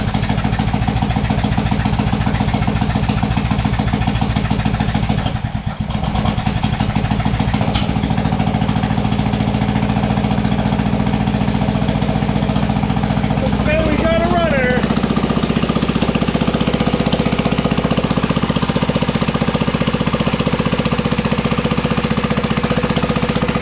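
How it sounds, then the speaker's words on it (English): A new replacement engine on a small tractor runs loud and steady with a rough knocking rhythm, then revs up briefly around the middle before settling back to idle; a voice talks over it. "we're going to give it a little bit of gas now"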